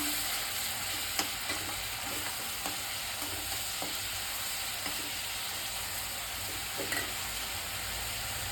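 Chickpeas roast in oil in a pan for a home-made festival dish, a quiet, steady sizzle with light scraping and stirring clicks spread through it.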